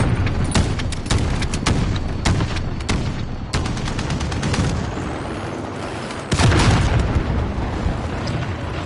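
Explosions and gunfire fill a Modern Warfare multiplayer match, with repeated loud sharp blasts and cracks across the battlefield and a heavy boom near the end, and no talk.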